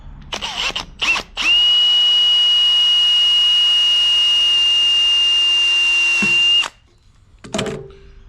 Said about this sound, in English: Maybe I'll quickly put a drill bit through it and just see if it is hollow or not.